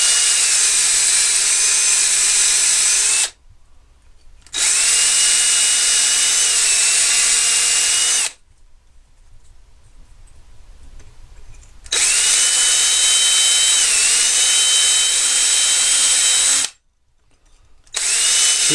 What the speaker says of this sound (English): I put it on a drill